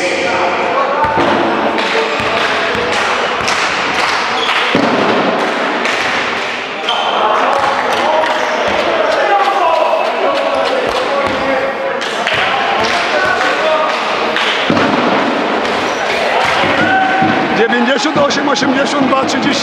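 A basketball thuds against a hardwood court during free throws at a youth final in Przemyśl, with repeated bounces and slaps ringing through the gym beneath constant arena commentary and crowd noise.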